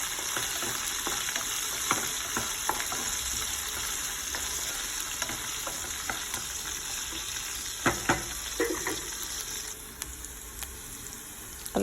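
Sliced onion and green chillies fry in a pan for a tomato curry, giving a continuous bright sizzle with scattered stirring scrapes and small clicks, close and steady throughout.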